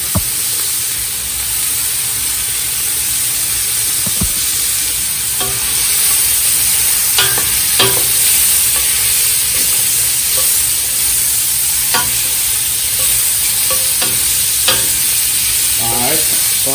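Shrimp frying in olive oil in a pan, a steady loud sizzle and hiss running throughout, with occasional scraping clicks of stirring utensils against the pan.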